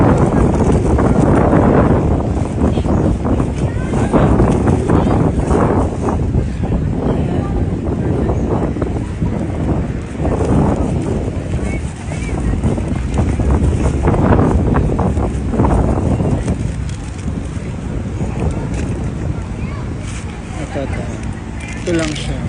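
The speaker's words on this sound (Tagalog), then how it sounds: "Ay, sarap ng hangin." Steady outdoor wind buffets the microphone in low rumbling gusts across the whole stretch, loud and close, while people chat over it.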